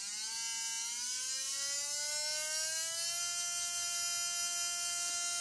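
A brushless motor spins up on a motor analyzer, a steady high whine with rising harmonic tones that climb and then level off as it reaches speed, loud and continuous with no talking.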